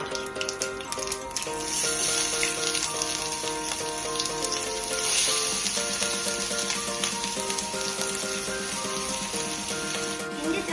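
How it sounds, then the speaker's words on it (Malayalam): Ginger frying in hot oil, already used for frying fish and popping mustard seeds, for a tuna pickle: a steady, dense sizzle runs the whole time, with faint tonal background sounds. "കടുക് പൊട്ടിക്കഴിഞ്ഞിട്ട് ഇഞ്ചി ഇട്ട് കൊടുക്കാം."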